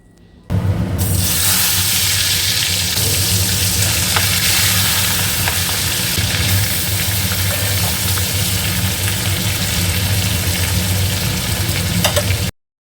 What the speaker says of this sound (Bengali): চিংড়ি মাছটা প্রথমে আমি ভেজে নিচ্ছি